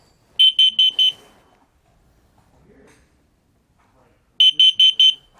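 An RV propane and carbon monoxide detector runs its self-test, giving two bursts of four sharp, loud, high chirps separated by a few seconds of near quiet, very close.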